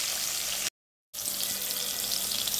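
Potatoes and chopped tomato frying in a pan, a steady broadband sizzle with a short gap of silence partway through, fairly close and without any talk.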